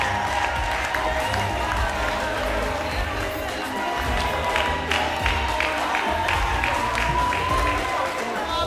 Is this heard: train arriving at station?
no